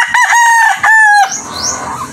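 A Black Kelso stag rooster crows nearby, loud and clear, in two strained, raspy bursts of a young cock's crow followed by a brief fading trail.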